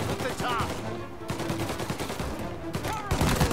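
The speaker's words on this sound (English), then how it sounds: "Don't stop shooting." Gunfire in the video game Mafia Definitive Edition: rapid bursts of sharp shots crack in clusters, loud and close, with short pauses between volleys.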